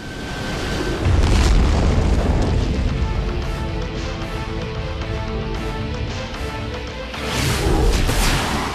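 Missile launches and explosions in the Iron Man Xbox 360 video game, deep rumbling booms building and fading across the clip, loud and dense with no talking.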